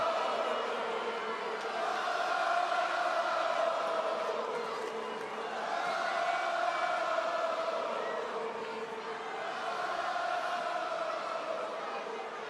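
A wrestling crowd at Monday Night Raw roars and cheers in long swelling waves, a dense arena din that rises and falls steadily throughout.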